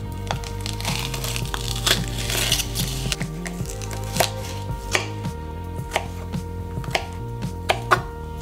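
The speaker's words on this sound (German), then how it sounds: "Heute reiben wir den Ingwer nicht zu einer Paste, sondern ich schneide ihn in relativ feine Stücke." Knife chopping fresh ginger into fine pieces on a cutting board, a steady stream of quick, close taps settling into a slower, even beat of distinct chops, with no talking.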